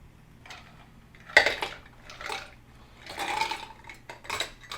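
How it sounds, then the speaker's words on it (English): Ice cubes clinking and rattling into a glass for a whiskey and ginger beer cocktail, several separate bright clattering bursts with quiet pauses between them, close up, with no talk. "I'm going to add the ice to it."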